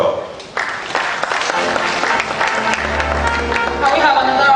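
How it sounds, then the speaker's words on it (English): An audience applauds at the opening of the 2017 Centre for Gender Studies annual seminar, with dense, sustained clapping from a large crowd filling the room at steady loudness throughout. "Can we have another round of applause for the Vice Chancellor, Professor Sasser Farado"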